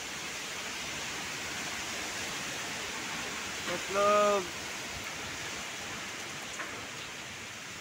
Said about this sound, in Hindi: और बारिश भी शुरू हो गई यार